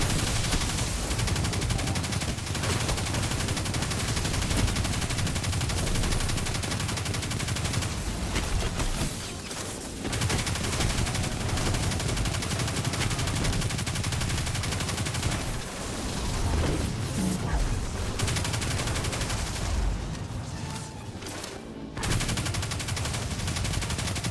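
Fallen Shank drones fire during a Destiny Nightfall mission, a dense, continuous barrage of rapid gunfire and blasts that runs loud and nearly unbroken, with brief dips.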